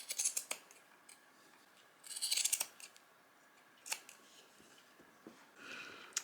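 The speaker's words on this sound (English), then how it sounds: "So I'm going to cut 4 pieces of this tape" Scissors cut several pieces of tape for a crazy-quilt Japanese rice bag, producing crisp snips in a few separate bursts, close and quiet, with no talking.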